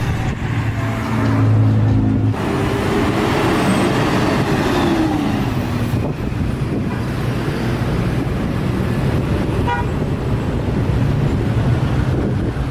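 Busy street traffic with public transport vehicles stopping at the roadside, a loud continuous roar of engines and rumbling tyres, buffeted by wind noise on the microphone, with a passing vehicle's engine swelling and fading.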